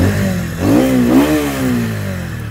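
A TVS Ronin 225cc motorcycle engine idles and revs up twice in quick succession, a close, loud, throaty rise and fall heard alone with no talk.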